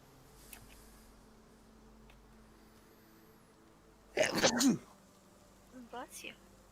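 A sudden sharp sneeze bursts out amid quiet room noise, followed a moment later by a softer, shorter vocal sound.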